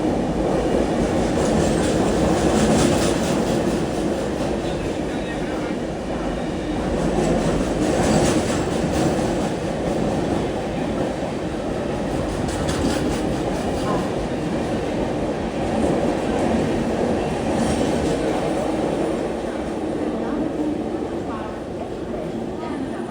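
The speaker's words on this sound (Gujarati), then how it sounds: "જોઈ રહ્યા છો તમે કેવી સ્પીડથી આ ટ્રેન જઈ રહી છે" Express train 19484 Purani Ahmedabad Express passing through a station without stopping, a loud continuous rumble of wheels and carriages at speed throughout, with faint clickety-clack and occasional talk over it.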